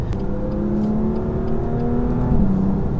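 A BMW M2 Competition's engine pulls hard under acceleration, a steady loud rising drone with climbing engine tones heard from inside the car and no speech.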